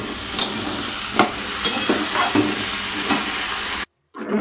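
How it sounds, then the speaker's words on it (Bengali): Potatoes and pointed gourd frying in a pan on a home stove, a continuous sizzle broken by several sharp scraping stirs of a spatula against the metal, close up, then a brief cut to silence near the end. "একটু ভাজতে দিয়েছি আলু পটলটা"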